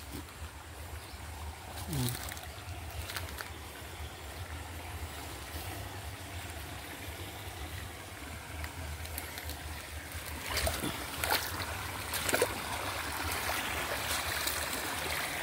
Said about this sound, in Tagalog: Ito yung sapa.